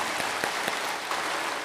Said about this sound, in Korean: 정말 하나님께 영광의 박수입니다